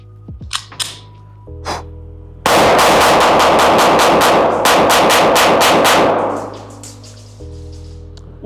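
A Glock 43X frame fitted with a PSA Dagger Micro slide and a 15-round magazine fires a fast string of about a dozen loud, sharp shots at close range after a few single clicks and handling noises.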